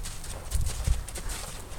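Horse hooves clip-clop in a steady gait during a riding lesson, with close, rhythmic thuds repeating over a continuous breathy background.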